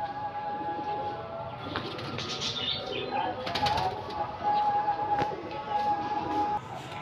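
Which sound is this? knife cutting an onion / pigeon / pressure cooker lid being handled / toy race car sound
pigeon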